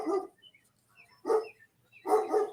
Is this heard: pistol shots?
no